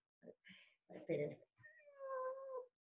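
Female cats meow in a long, drawn-out, wavering cry near the end, loud and close, after a few short voiced sounds and a brief burst of talking.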